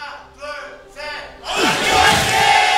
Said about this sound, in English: Big cheer for SKT.